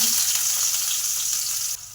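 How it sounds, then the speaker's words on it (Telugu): Tempering seeds and onions frying in hot oil, a dense, steady close sizzle that drops slightly in level near the end, no voices. "ఆయిల్ హీట్ ఎక్కిన తర్వాత తాలింపు గింజలు వేసుకున్నాం తాలింపు గింజల తర్వాత ఉల్లిగడ్డ"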